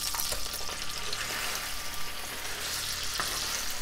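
A chicken burger patty frying in a pan, with a dense steady sizzle and scattered spatters up close, continuous for a few seconds with no voices.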